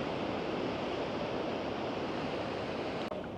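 Atlantic sea waves wash around a seawater pool at Puerto de la Cruz, Tenerife, as a constant broad roar of surf mixed with wind, loud and unbroken with no talking.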